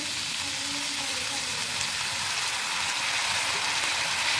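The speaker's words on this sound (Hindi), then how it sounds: "इन सारी वेजिटेबल्स को अच्छे से मिक्स करके तो फ्राई कर लें।" Vegetables with soy sauce, black pepper and vinegar frying in a pan for chicken egg fried rice, a steady close sizzle with light stirring, continuous and even throughout.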